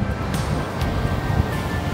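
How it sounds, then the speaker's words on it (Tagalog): Surf rolling onto a Philippine shoreline with waves good for surfing, a steady broadband wash with wind noise on the microphone and no voices. "napakaganda ng alon."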